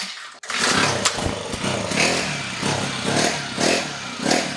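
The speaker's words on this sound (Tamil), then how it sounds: "இப்போ வண்டி சும்மா ஆன் பண்ணி காட்டுறேன்." A kids' battery ride-on vehicle is switched on and gives off a loud, continuous revving motor-like sound with rhythmic pulsing bursts, close by and without talking.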